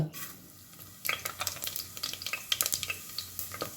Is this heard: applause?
no